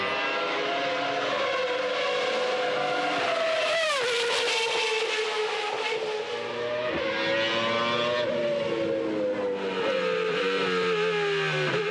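Renault Espace F1 minivan with a ten-cylinder Formula 1 engine screaming down the Mistral straight, a loud continuous high-pitched howl with rising pitch through gear changes, heard from onboard and alone.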